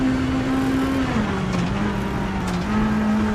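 A Citroen rally car engine drones at a steady pitch with small shifts while driving on snow in a racing video game, accompanied by a constant gravelly road and tyre rush and no speech.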